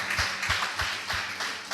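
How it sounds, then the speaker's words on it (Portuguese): A church congregation claps together during a worship service, the steady rhythmic beats rising to a loud, full sound. "aplauda o Senhor"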